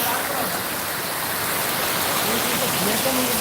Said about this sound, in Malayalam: മഴ പെയ്താൽ ഇത്രയും തീവ്രതയോടെയാണ് വെള്ളം വരുന്നതിന്